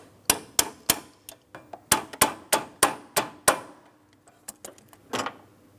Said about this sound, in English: I'm just going to use some pliers around it so I can hit up against both sides at the same time